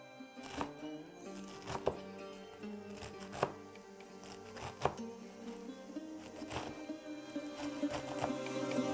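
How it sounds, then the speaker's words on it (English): A knife chops bunches of spinach very finely on a board, a steady run of repeated cuts with a few sharper thuds standing out, close and moderately loud with no talking. "grab this as by bunch and then chop it into very, very fine"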